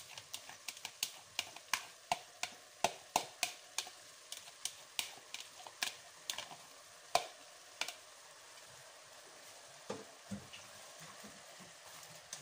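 Vegetables go into a pot of beef mince stew and are stirred, a string of sharp spoon taps and scrapes against the pan over a faint, low sizzle.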